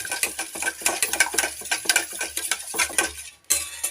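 Oil and milk being stirred together in a bowl for chocolate banana cake batter, a quick run of clinking, scraping spoon strokes against the bowl, close and steady, pausing briefly near the end.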